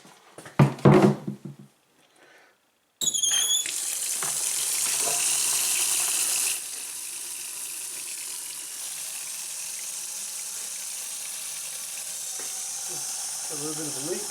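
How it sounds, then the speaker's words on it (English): Tap water pours steadily from a faucet into a container for a radiator flush on a 2009 Ram 1500, a hissing, splashing stream that starts abruptly after a few brief knocks and runs on at even strength. "I'm just going to use regular tap water rather than distilled water"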